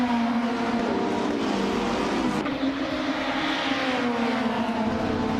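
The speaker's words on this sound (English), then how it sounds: "the race at Sitges Terramar has just kicked off, and leading the pack is the Trihartriad in a classic 1996 Peugeot 406" Race cars from a video game tear around the Sitges Terramar circuit, a 1996 Peugeot 406 among them, as a steady, dense engine drone with a sustained hum and no clear pass-bys.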